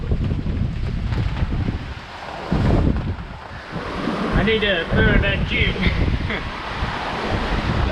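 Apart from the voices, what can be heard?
strong wind and waves at sea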